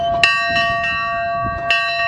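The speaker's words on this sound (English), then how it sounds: "we could climb on the train and ring the bell" A train bell at a museum rings clearly several times in an irregular rhythm, its bright tone sustaining and overlapping between strikes, close by with no talking.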